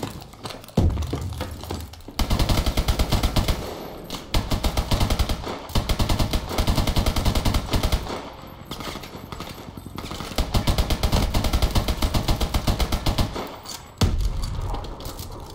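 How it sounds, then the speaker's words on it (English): Rapid automatic gunfire from a Call of Duty Advanced Warfare shooter game, loud bursts of dense rattling shots repeating across the whole span with brief gaps between volleys. "This gun's from Call of Duty."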